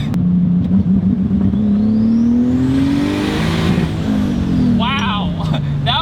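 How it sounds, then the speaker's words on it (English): Single-turbo BMW 328is engine, an E36, revving hard to the rev limiter with rolling anti-lag, loud and close, its tone climbing and then falling. Popping and crackling come near the end, with voices heard faintly. "Wow, that was rolling anti-lag. I just hit rev limiter"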